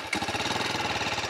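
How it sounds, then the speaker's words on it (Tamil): TVS Apache RTR 310 motorcycle exhaust idling up close, a steady rapid throbbing pulse with a low, even rumble and no voices. "ஸோ இதோட எக்ஸாஸ்ட் நோட் வந்து டிஃப்ரெண்ட்டாக இருக்குது."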